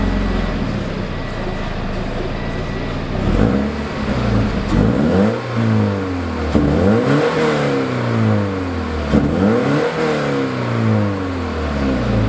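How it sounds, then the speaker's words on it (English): Scion FR-S engine with a Q300 aftermarket exhaust, heard up close as a series of sharp rev-ups that rise quickly and fall away, roughly four blips repeating over an idling base, with no talking. "show you guys these few rev ups"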